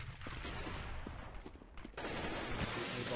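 Bursts of gunfire in the video game CS:GO on the de_mirage map during a competitive match, broadband rattling shots running steadily through the whole stretch with a brief dip in the middle, loud and close.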